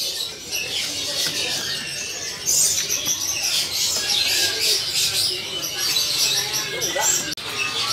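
Kacer magpie robin singing in a bird shop, with bright high chirps and trills running throughout, close and fairly loud, along with soft background noise.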